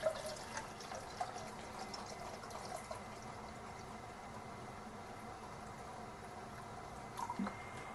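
Purified bottled water being poured in a home kitchen while making elderberry syrup, a faint, steady trickle and splash with a few soft drips near the start and end.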